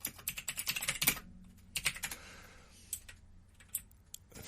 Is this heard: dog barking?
no